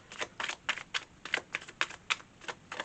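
Quick bursts of tarot card shuffling, repeated riffling clatters in an irregular rhythm, close and fairly quiet with no voices.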